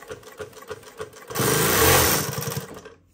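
A Jack 57820 double needle heavy duty sewing machine stitching at a long 7 mm stitch length, a loud, close mechanical whir that builds to a fast steady run and then winds down, preceded by slower rhythmic needle thumps.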